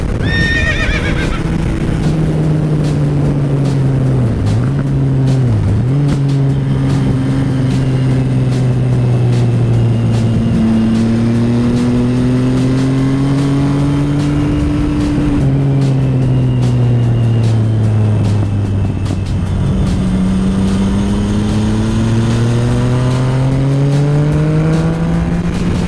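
A Yamaha MT-09 motorcycle engine revs and shifts through gears while riding, its steady drone rising and dipping in pitch, loud and continuous with wind noise.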